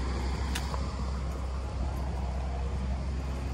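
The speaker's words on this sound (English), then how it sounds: "There's a pump going right there." An outdoor pump runs close by, producing a constant low droning hum with broadband noise and no breaks.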